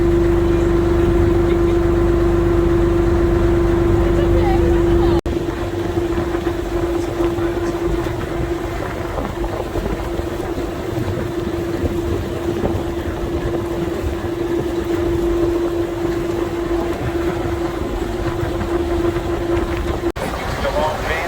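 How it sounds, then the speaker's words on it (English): Continuous low engine drone of a boat cruising along a river to Hoi An, Vietnam, with steady water and wind noise throughout. "Now we're taking a boat ride back to Hoi An."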